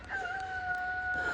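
A rooster crows on a snowy farm, a single sustained call with a steady tone, heard at moderate distance over low outdoor background noise.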